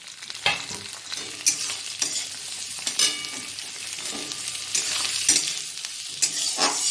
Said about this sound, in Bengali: এরপর এটা পেঁয়াজটা বাদামি রং হওয়া পর্যন্ত আমি একটু ভাজতে থাকবো।